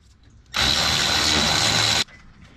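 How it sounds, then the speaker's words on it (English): Power tool with a 13mm socket spinning out a top radiator bolt on a 2000 Chevy Silverado, a loud steady whir lasting about a second and a half that starts and stops abruptly; no speech. "We're about to take out the 2 bolts at the top."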